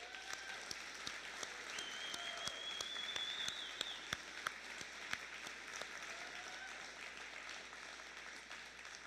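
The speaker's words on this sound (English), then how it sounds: "round of applause." Applause fills a fire academy graduation ceremony, a steady, even wash of many hands clapping at moderate distance that holds throughout without a break, with a faint whistle rising briefly above it.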